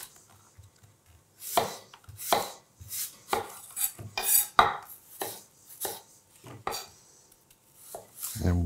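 Knife slicing through apples on a cutting board, a series of separate crisp cuts spaced about a second apart, fairly close and moderately loud, with no talking over them.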